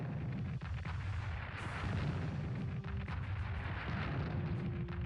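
Artillery barrage in the World War II strategy game Strategic Command: WWII – War in the Pacific, a steady, dense rumble of booms and bursts that fills the whole stretch with no talking.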